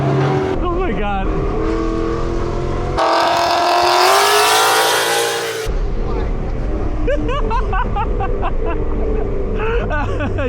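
Loud Mustang GT engine pulling hard: a sustained rising roar at full throttle that swells and then eases, with excited voices talking over it before and after the run.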